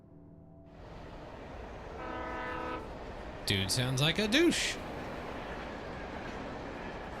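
A train in the video game Alan Wake sounds its horn, a loud sustained blast with a second wavering tone over a low rumble of rail noise; someone talks briefly beforehand.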